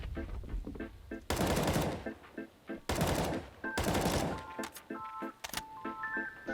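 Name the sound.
gunfire wallbanging through a wall in the video game CS:GO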